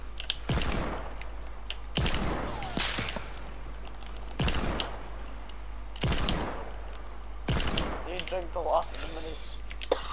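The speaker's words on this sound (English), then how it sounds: "I'm gonna hit them with my hand cannon." Hand cannon gunfire in a Fortnite Battle Royale match: several sharp, loud shots spaced about two seconds apart, each with a whip-like crack and short tail, over a steady game background.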